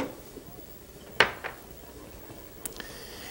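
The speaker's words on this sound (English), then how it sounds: "Take one heavy pot, place it on full flame, place your ghee inside" A heavy pot set on a full gas flame for ghee while cooking Indian-style rice gives a few sharp metallic clanks, the loudest near the start and a fainter pair later, over a quiet kitchen background.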